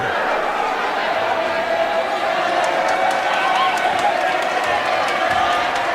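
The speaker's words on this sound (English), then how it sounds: "And the crowd getting into it." Basketball game crowd in a gym, a steady roar of cheering and chatter with a few sharp shouts and claps rising over it, mixed with commentary.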